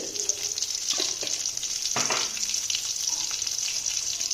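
Onions and fennel seeds frying in hot oil, giving a steady, close bright sizzle throughout with a few soft stirring scrapes, and no voice.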